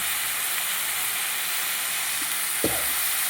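Tomato chutney fries in a pan with a dense, steady sizzle and hiss that is close and constant, with a brief scraping stir and a soft clink near the end.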